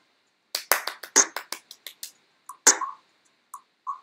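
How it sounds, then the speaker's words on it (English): A brief, sparse round of applause from a few people during a golf game, a handful of irregular claps that trail off into scattered single claps. "Let's just give a sad round of applause for Xavier"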